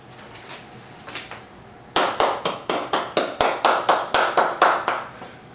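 Faint, scattered claps from a barbershop comedy audience give way to a loud, steady run of about fourteen rhythmic hand claps, evenly paced and close.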